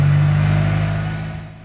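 A Hyundai car engine, just started, runs with a steady low rumble that gradually fades away, with no other sounds.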